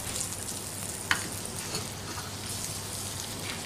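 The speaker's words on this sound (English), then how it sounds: "Meanwhile, sections of a peeled peach and sticks of peeled rhubarb are sautéed in butter." Sections of peeled peach and sticks of peeled rhubarb sauté in butter in pans, giving a soft, steady crackling sizzle with one brief clink, faint and without talk.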